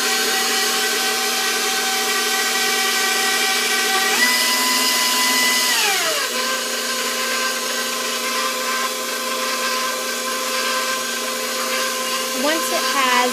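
An electric stand mixer churns dough in a loud, steady motor whine whose pitch steps down and shifts as the load changes, running continuously with some background talk.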